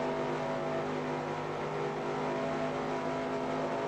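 Race car engine from the NASCAR Racing 2003 video game at Pocono, droning steadily as it runs out of fuel, a continuous loud hum with no clear revs or breaks.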